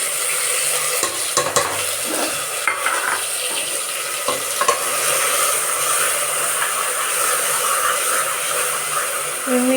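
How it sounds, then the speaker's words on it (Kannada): Onion and ginger-garlic paste frying in a tempering for mutton curry over medium flame, a steady close sizzle with occasional scrapes and taps of a stirring spoon against the pan. "ಮೀಡಿಯಮ್ ಫ್ಲೇಮಲ್ಲಿ ಇಟ್ಟು ಇದನ್ನು ಸ್ವಲ್ಪ ಮತ್ತೆ ಫ್ರೈ ಮಾಡ್ಕೊತಾ ಇದ್ದೀನಿ"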